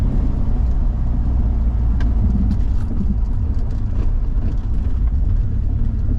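A BMW E34 M5 with 336k miles, recently rescued from flooded woods and with a balky second gear, drives along with a steady low engine drone and road rumble, heard from inside with no talk.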